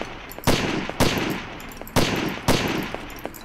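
Shotgun blasts in the video game Garbage Day, four loud sharp shots spaced roughly half a second to a second apart, each with a short decaying tail and no talking.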